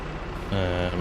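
A small tractor engine idling in the Farming Simulator 22 video game, a steady low mechanical drone with a tonal hum that grows slightly louder midway.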